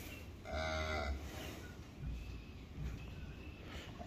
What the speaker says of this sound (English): Little heifer calf.